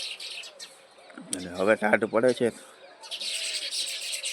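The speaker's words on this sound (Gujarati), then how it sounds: "જો મસ્ત મજાના ચકલા ચણે છે" Sparrows pecking grain on a cool morning chirp in thin, high bursts before and after a short stretch of someone speaking nearby.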